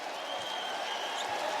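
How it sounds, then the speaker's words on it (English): A basketball arena crowd cheers and applauds after a women's college game at Colonial Life Arena, a dense, steady wash of clapping and roaring from a distance with no clear voice over it. "Crowd on its feet."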